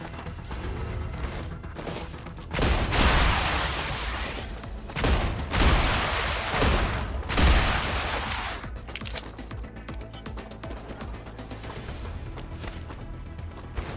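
Bursts of video game gunfire aimed at enemies: dense, loud volleys of rapid shots cluster in several waves, then thin out into scattered clicks and mechanical handling sounds.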